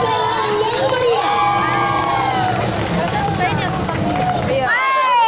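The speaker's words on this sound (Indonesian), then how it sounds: "Beri tepuk tangan yang meriah." A school performance crowd cheering and shouting with clapping, loud and dense, with high children's voices whooping over the noise and a tonal voice or music rising at the end.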